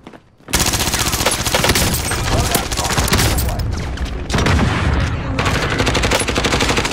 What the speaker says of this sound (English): They're shooting us through a building